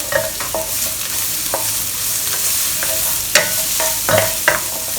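Strips of rehydrated dried Chinese mushroom stir-frying in a pan, a continuous loud sizzle punctuated by several sharp spatula knocks and scrapes at irregular intervals, close up and without speech.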